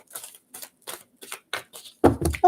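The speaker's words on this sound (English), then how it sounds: "Give it a good shuffle." A deck of cards being shuffled in several quick riffling bursts, close by, ending with a couple of louder rustles and a brief voice-like sound.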